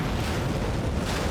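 A dense, sustained roar from a film-set explosion with a big fireball fills the moment, loud and rumbling without a clear sharp onset, and no voices are heard.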